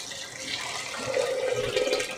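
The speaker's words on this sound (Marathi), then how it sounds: "आता मी याच्यामध्ये भरपूर पाणी घालते।" A generous amount of water pours steadily into a container of soaked wheat grains in a kitchen, a continuous splashing gush that grows slightly fuller partway through, with no talking.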